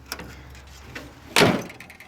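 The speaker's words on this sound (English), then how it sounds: "The door shuts perfectly." A 1962 Chrysler 300's door shuts with a single solid thud partway through, standing out clearly against a quiet, faintly humming background with a couple of small clicks beforehand.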